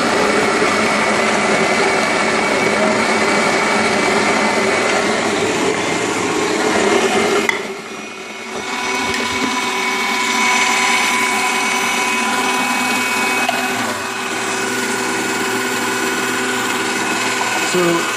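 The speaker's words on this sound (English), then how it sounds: "We just plug it back in." Capresso Infinity burr coffee grinder running after reassembly and burr adjustment, a loud steady whirring drone that dips briefly partway through, then carries on evenly to the end with no talk.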